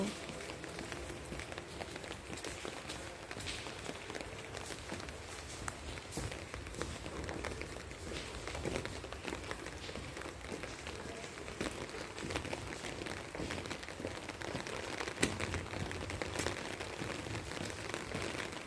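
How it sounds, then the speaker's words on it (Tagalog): Steady rain patters on surfaces outdoors in Israel, a continuous even hiss with scattered drips and faint footsteps, lasting throughout at a low level. "Ulan."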